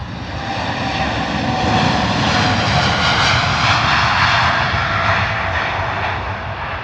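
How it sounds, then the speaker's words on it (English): A heavy Qantas Boeing 787-9 Dreamliner bound for Australia takes off at Heathrow with a loud, sustained engine roar, close and broadband, swelling slightly as it passes. "Going to use as much runway as possible because that Dreamliner, I would imagine, is heavy, going all the way to Australia"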